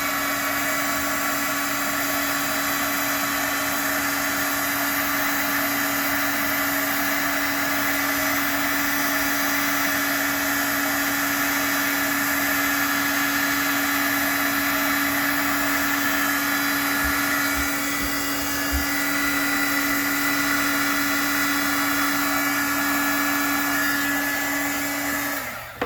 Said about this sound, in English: Okay, so heat tool on.